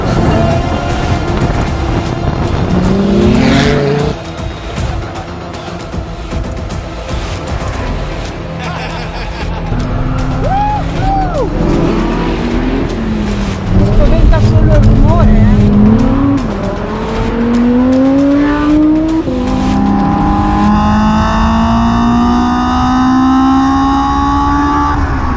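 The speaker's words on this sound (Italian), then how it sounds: "La Lamborghini drifta" A Lamborghini drifting, its engine droning and rising through revs with tire noise, loud and continuous, while a crowd murmurs and people talk nearby.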